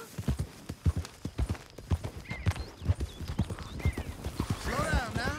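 Horse hooves clip-clop in a steady, rhythmic gait in Red Dead Redemption 2, close and distinct throughout, with a voice speaking near the end.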